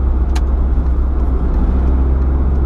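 A project car with a turbocharged engine cruises on the highway, a steady loud low engine drone and road rumble heard from inside the cabin, with no talking.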